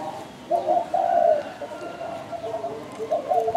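A spotted dove in Phu Yen gives a run of soft, low, rhythmic coos, close by and fairly quiet against a faint background.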